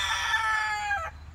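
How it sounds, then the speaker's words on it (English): Backyard hens in a chicken coop make a loud, close, drawn-out call lasting about a second, then it cuts off to quiet. "all these hens, those were my chicks"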